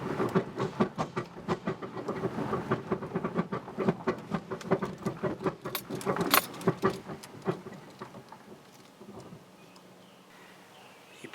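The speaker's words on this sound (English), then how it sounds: "You probably heard the noise when we were driving down the road of the trailer behind the Equinox" A small utility trailer rattles behind a Chevrolet Equinox on the road, giving irregular metallic clanks and jangles over a steady road rumble that calm down near the end.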